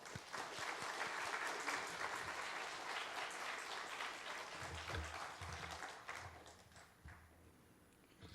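Church congregation at a Wednesday prayer meeting giving warm applause as the pastor comes forward, a steady even patter of many hands that fades out near the end, fairly soft and somewhat distant.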